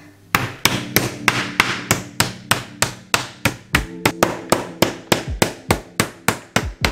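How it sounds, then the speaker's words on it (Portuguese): A meat mallet pounds steaks with rapid, even thuds, about three blows per second, close and loud with no talking. "Vou dar uma martelada neles."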